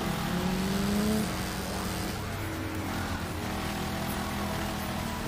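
A car engine in the racing game Wreckfest, during a stock car race, accelerates with a steady loud droning roar, slightly stronger in the first second, then holding an even rumble.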